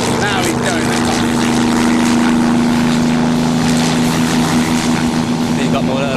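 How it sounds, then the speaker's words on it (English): An engine on a Scrapheap Challenge contraption revs up, its tone building steadily and loud throughout, with a strong steady drone and people talking and cheering over it. "The engine is free to breathe and the revs keep building."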